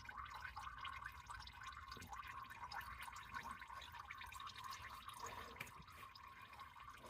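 Engine oil from a 2014-2018 Chevy Silverado 5.3L V8 draining into an oil pan, a steady faint gurgling trickle of liquid running continuously at close range.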